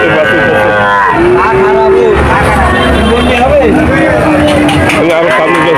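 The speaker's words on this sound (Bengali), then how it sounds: "এটা হলো যে ফ্রিজিয়ান জাতের বাছুর" A Friesian breed calf moos loudly at a busy cattle market, a couple of drawn-out calls amid crowd babble and people talking nearby.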